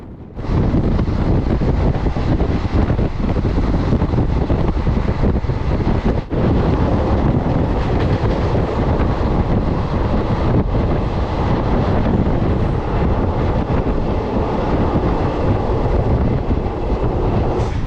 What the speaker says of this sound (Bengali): ট্রেন ভুবনেশ্বর স্টেশন ঢুকছে